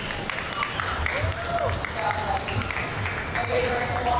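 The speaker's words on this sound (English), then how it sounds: "Let's give them another round of applause." Crowd applause at a junior market goat show for the young exhibitors, a sustained outdoor round of clapping with voices and cheering mixed in throughout.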